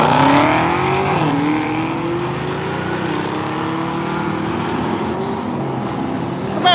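Drag racing cars roar down the lanes at a drag strip, a loud sustained engine howl with rising pitch as the cars pull away into the distance.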